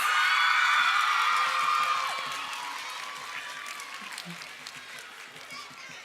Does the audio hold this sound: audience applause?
yes